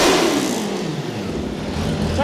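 Supercharged Mini running on hydrogen revving its engine, a loud close roar that surges at the start and holds a rough, buzzing drone, with a voice briefly audible over it.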